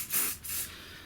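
Silicone spray hisses onto rubber bushes around turntable mounting screws in a Sharp VZ-2500E portable stereo: two short close bursts, the second slightly longer, then fading quiet.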